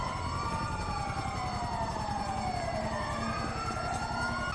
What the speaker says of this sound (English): The ambulance! Get in,